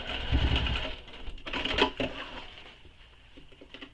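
Close sewing-machine stitching along a large fabric tube for a backpack, a quick rattling run that fades into quieter, uneven clicks, with no talk.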